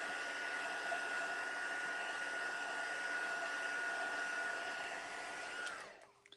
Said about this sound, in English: I'm just going to dry this off as much as I can so that I can work with it to make a card.